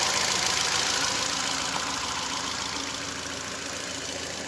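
A Ford EcoSport engine idles steadily just after a general overhaul, giving a close, even, broadband running drone with no pauses.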